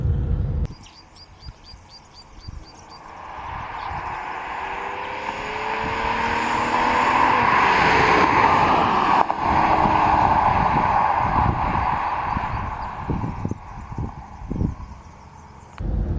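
A 2005 Aston Martin DB9 with a V12 engine driving, a loud sustained engine drone that builds and holds for several seconds before easing off, with faint chirps early on.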